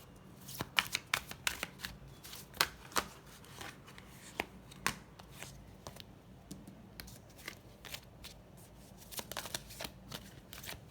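Tarot cards being shuffled by hand, repeated quick riffling slaps and flicks at irregular intervals, close and fairly quiet, with no speech.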